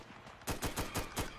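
Ak5C rifle from a Fallout 4 mod fires a rapid string of about five sharp, loud shots in quick, even rhythm after a short quiet lead-in.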